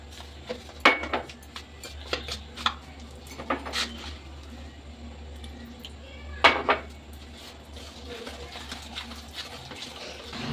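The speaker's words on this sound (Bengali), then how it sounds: "এবার জল দিয়ে এটাকে আমি গুলে নেবো" A batter of semolina and raw potato is mixed with water in a bowl, with sharp, irregular clinks and taps of a utensil against the dish over a low background hum.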